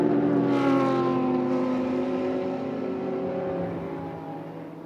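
GT race cars passing through Pont at Spa-Francorchamps during a Blancpain GT Sports Club qualifying race, a loud sustained engine roar with rising pitch that slowly fades as the cars pull away.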